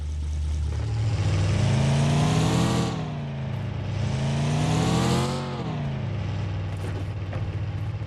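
A video game vehicle's engine revs and climbs in pitch, drops, then surges again, loud and close, with a steady droning motor between the two accelerations.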